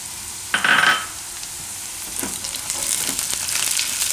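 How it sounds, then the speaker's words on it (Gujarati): Carrots and green chilies fry in a pan with a steady, close sizzle. A brief louder burst of hissing comes near the start as more ingredients hit the hot oil. "હવે એમાં આપણે મરચાં નાખી દેવું"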